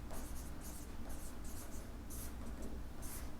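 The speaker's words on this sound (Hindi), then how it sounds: "अब सिद्धे लिखेंगे हम।" Pen scratching across paper while a maths proof is written out, a dense continuous scribble broken into short bursts of strokes, close up, with no voice over it.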